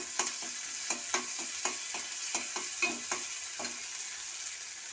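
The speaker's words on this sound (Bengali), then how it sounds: "আদা বাটাটা দিয়ে আমি এখানটায় ভেজে নিচ্ছি।" Garlic, tomato and ginger paste frying in a little oil in a pan, for an okra and egg dish, with a steady sizzle broken by repeated sharp scraping taps of a stirring spoon, close and fairly quiet.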